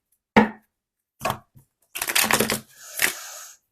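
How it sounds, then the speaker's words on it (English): Tarot cards shuffled by hand in several separate bursts: a short riffle, a couple of quick flicks, then a longer crisp run of rapid papery clicks close up, with no voices. "I love how the cards literally shuffle a completely different way when they're upside down"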